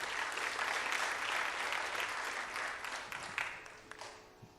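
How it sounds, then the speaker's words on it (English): Applause from the audience at a Bharatanatyam arangetram dance debut, a sustained, fairly distant round of clapping that gradually thins out and fades toward the end. "a big round of applause for them"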